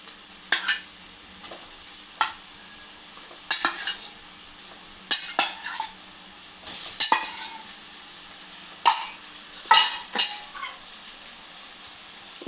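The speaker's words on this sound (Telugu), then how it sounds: "ఇప్పుడు ఇది మంచిగా ఫ్రై అయ్యేంత వరకు కలపాలి ఇట్లా ముక్క మంచిగా ఫ్రై కావాలి" Korameenu (murrel) fish pieces fry in a pan for a Telangana-style curry with green chillies. A utensil stirs them, giving irregular scraping clinks and clatters over a steady low sizzle, with no voices.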